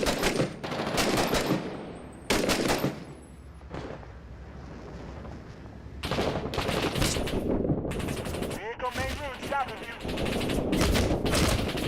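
Rapid bursts of enemy machine-gun fire with tracer rounds in the war shooter Six Days in Fallujah, loud close rattling volleys with heavy impacts, broken by quieter stretches and a voice speaking.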